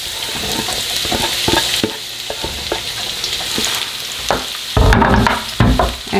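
Chopped red onion and white parts of green onion hitting a hot pan, a loud close sizzle with repeated scraping stirs and clatters, a burst of stronger frying near the end.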